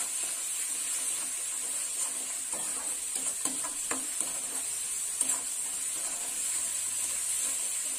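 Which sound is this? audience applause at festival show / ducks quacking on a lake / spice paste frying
spice paste frying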